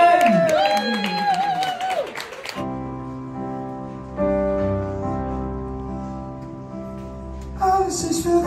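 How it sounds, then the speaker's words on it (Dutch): Warm crowd applause with cheering greets a singer and pianist at a cooking event, loud at first, then giving way to piano and sustained tones before clapping swells again near the end. "Dames en heren, mag ik een warm applaus voor de man die nog beter kan zingen dan hij kan koken"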